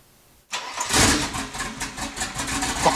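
A Mercedes-Benz M103 inline-six fitted with a turbo fires up for the first time after a moment of silence, cranking briefly, then catching into a loud, slightly uneven idle with pulsing revs close by.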